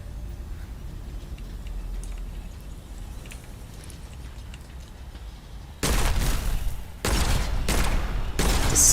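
Gunfire in the single-player PvE extraction shooter Witchfire: loud, dense bursts of shots starting near the end, in three close volleys after a quieter stretch of game ambience.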